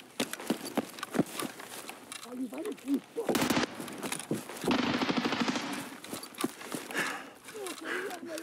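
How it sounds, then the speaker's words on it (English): Rapid bursts of gunfire in the shooter game Escape from Tarkov, sharp repeated cracks scattered across the clip with a dense sustained volley midway, mixed under game noise and voices talking. "Is that a player shooting at him or is that Sanitar in there?"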